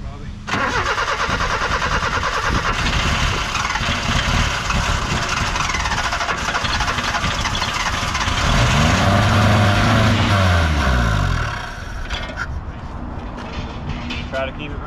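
An old Chevy LUV pickup engine cranks, catches and runs, rising into a louder revving stretch before settling back to a rough idle, with people talking over it.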